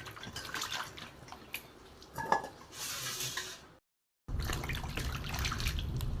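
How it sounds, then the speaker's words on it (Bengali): Peeled bottle gourd is rinsed under a running tap, water splashing and trickling with small knocks of the vegetable against a vessel, a short silent gap, then steady flow again. "জলে ধুয়ে নেব"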